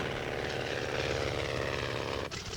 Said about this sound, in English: shuttled his little biplane back and forth between Willows Airport and the fire's edge to drop his load on the hottest spots